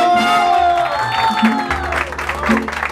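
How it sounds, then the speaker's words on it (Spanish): Applause and cheering from a crowd at a birthday celebration with mariachi music, clapping and whoops over sustained instrumental tones and voices. "aplauso"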